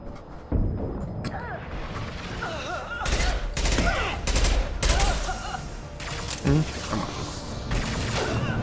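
Rapid bursts of gunfire in the Mass Effect 2 video game crackle in clustered volleys with mechanical clanks between them, loud and close, under a busy game soundscape.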